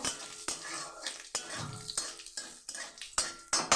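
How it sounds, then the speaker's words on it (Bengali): Cumin seeds with green chilli frying in a pan for a dal tempering, heard up close as crackling sizzle broken by repeated metal spatula scrapes and taps against the pan at a regular pace, with no talking. "জিরে ফোড়ন সেটাকে আমি হালকা করে ভেজে নেব"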